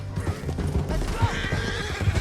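Horse whinnies and clip-clopping hooves from Red Dead Redemption 2, close and continuous over a steady game soundscape, with faint voices underneath.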